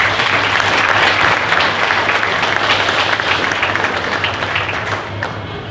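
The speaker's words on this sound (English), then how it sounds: "So let's give her a round of applause." Indoor audience applause at a fair queen and princess coronation, a full, dense roar of clapping from many hands over a low steady hum, slowly tapering toward the end.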